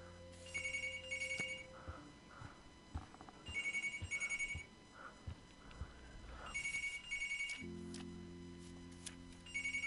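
A telephone rings in the video game Life Is Strange, its bell-like trill sounding in several repeated bursts against a background of ambient game sound.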